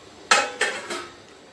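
A metal lid is set onto a cake tin inside a pot for a no-oven biscuit cake, giving three quick, close metallic clanks that fade out.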